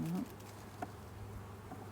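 Faint, steady honey bee buzzing hums under a low background drone, with a brief rustle near the start and no talking.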